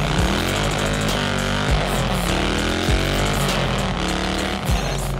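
A built 131ci Harley-Davidson Twin Cam V-twin motorcycle engine with ported heads and big valves runs loud and close, a steady throbbing roar with several sharp throttle blips and revving swells throughout.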